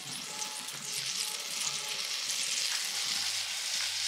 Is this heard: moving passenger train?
no